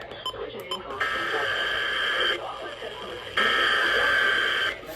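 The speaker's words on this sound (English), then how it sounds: "The preceding signal was a test of the public warning and alarm for transmitters in the Florida listening area" NOAA weather radio plays an Emergency Alert System weekly test signal: loud sustained two-tone attention bursts separated by a short gap, preceded by brief data-burst chirps, over faint radio hiss.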